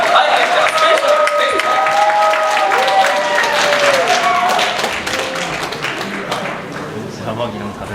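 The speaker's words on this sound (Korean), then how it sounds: "큰 박수로 환영해 주시기 바랍니다" An audience claps in a dense, steady burst to welcome performers at a church youth-group event, easing off after about five seconds, with tonal music or voices sounding underneath.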